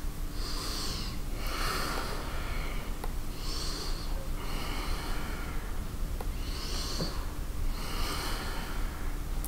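Slow, deliberate breaths in and out during a prenatal yoga session, heard close up as about six airy inhale and exhale swells in a steady rhythm over faint background hiss, without speech.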